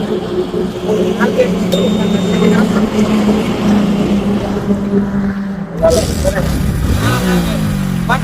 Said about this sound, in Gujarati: બાઇક ચાલુ જ છે